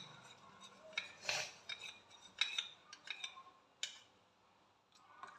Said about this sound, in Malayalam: എന്നിട്ട് നന്നായിട്ട് ഇളക്കി കൊടുക്കാം. കൈവിടാതെ തന്നെ ഇളക്കി കൊടുക്കാം.